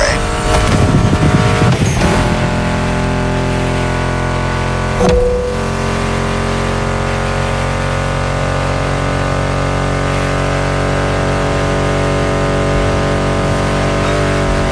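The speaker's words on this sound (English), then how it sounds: "Meshes well with the sound of the engines, you feel me?" Racing game engine sounds from a Ford Mustang in The Crew Motorfest, a steady loud drone with a brief swell near the start and a short dip around five seconds, mixed under background music.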